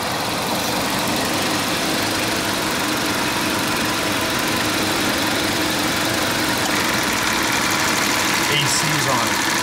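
A 1990 Jaguar XJS convertible's engine idles steadily and smoothly with the air conditioning running, a continuous broadband hum that stays even throughout.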